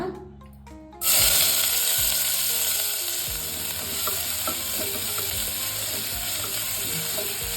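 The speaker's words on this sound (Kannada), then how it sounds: "ಈಗ ಈರುಳ್ಳಿ ಟ್ರಾನ್ಸ್ಪರೆಂಟ್ ಆಗೋವರೆಗೂ ಫ್ರೈ ಮಾಡ್ಕೊಳ್ಳಿ" Finely chopped onion drops into hot oil and erupts into a loud, steady sizzle, with occasional scraping and stirring clinks from a utensil in the pan.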